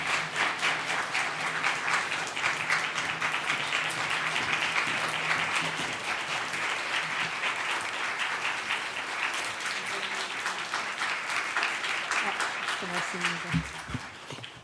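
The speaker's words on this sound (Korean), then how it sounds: "저희가 큰 박수로 함께 환영하며 축복하겠습니다" Church congregation applauding to welcome a missionary guest speaker at a young adults' worship service, dense steady clapping throughout, loud and sustained, with a few voices and low tones near the end.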